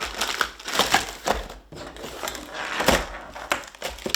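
Packaging for a two-way radio is handled while unboxing, making close crinkling and crushing sounds. Irregular rustles and crackles come in bursts with brief pauses, fairly near and no speech.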